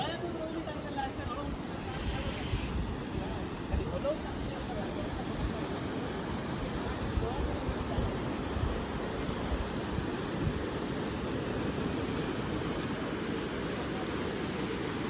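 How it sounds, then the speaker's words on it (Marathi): Sea waves wash in a continuous roar on the Konkan coast at Kunkeshwar, mixed with gusty wind buffeting the microphone and faint voices in the background. "खूप सुंदर समुद्र आहे"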